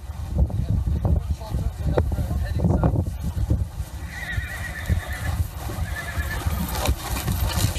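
Horse neighing with hooves clip-clopping during a race run alongside a galloping rider, with busy rumbling outdoor noise and some wind throughout.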